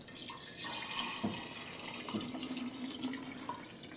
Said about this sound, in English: I'm gonna pour and hopefully not spill my immune formula